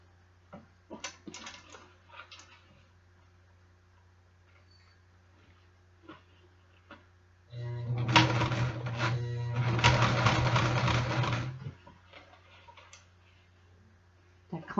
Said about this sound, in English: That clanking noise you're hearing is the zipper pulling behind it.